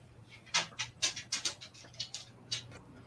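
A dog pants nearby in quick, breathy rhythmic puffs, about eight or nine bursts in a few seconds with short pauses between.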